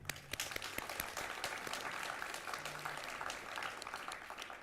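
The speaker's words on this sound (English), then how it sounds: "Please give a big round of applause for their achievement and speedy positivity." Applause from an audience at a design week opening ceremony in Hong Kong, steady dense clapping with sharp individual claps poking through, fairly distant and even throughout.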